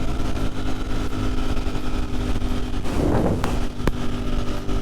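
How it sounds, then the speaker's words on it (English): Steady, loud wind buffeting roars over a rider on a Ducati Streetfighter V4 motorcycle at freeway speed, with engine drone beneath the constant rushing noise. "significantly more wind buffeting over a Panigale"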